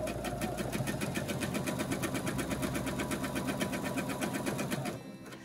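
A sewing machine stitches binding onto the outer edge of a quilt with a fast, steady run of close, even stitches that cuts off just before the end.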